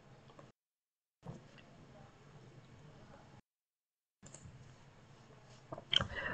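A few quiet mouse clicks on a computer as save is pressed, faint and close, set among soft room noise with brief gaps of silence and a sharper click near the end.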